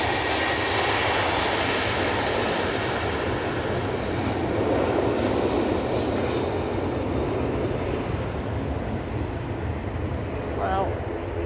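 A departing airliner's jet engines roar loud and continuous as the aircraft climbs out from Manchester Airport, the sound staying strong throughout with a faint rise midway and a few brief higher sounds near the end.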